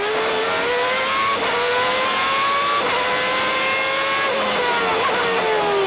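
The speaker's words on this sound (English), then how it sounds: "Going very low in the revs, listen. And that is low revving." A 1992 Formula 1 car engine held at low revs on the Spanish Grand Prix circuit, loud and close with a steady droning note that dips and rises slightly through gear changes over six seconds.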